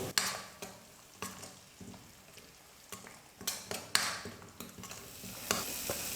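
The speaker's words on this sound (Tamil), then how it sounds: "நல்லா மீடியம் ஃப்ளேமில் வச்சுட்டு 5 நிமிஷத்துக்கு நல்லா வதக்கிக்கிட்டேன்" Mint paste sautéing and being stirred in a pan over a medium flame for pudina rice, with soft sizzling and a run of scraping stirs and clinks against the pan, close and moderately loud, with no talking.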